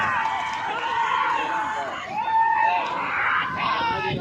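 Crowd at a traditional bullock cart race at a village fair ground cheering and shouting loudly and continuously, with whoops and screams rising in waves. A commentator talks over the noise.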